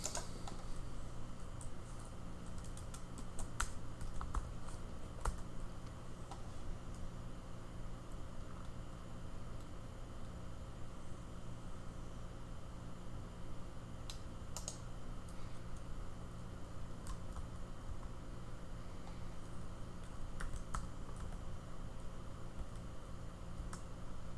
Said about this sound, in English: What the fuck am I typing, bro?